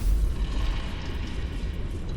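A large explosion in Baldur's Gate 3 lands as a deep booming rumble that rolls on and slowly fades, loud and close, with no voices over it.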